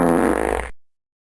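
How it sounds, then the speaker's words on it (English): A single loud, wet, buzzing fart sound effect for a dog blasts for under a second, then cuts off abruptly into silence. "That dog farts morning, noon,"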